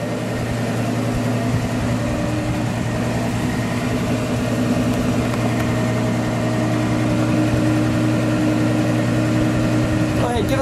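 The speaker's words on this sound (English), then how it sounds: "we'll give it a rev." A 1957 Chevrolet Bel Air survivor car's engine runs at a steady idle, a constant low rumble with a droning hum, near and even for the whole stretch without a clear rev.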